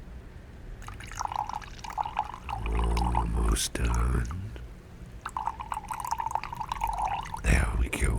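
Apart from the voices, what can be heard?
water poured into two glasses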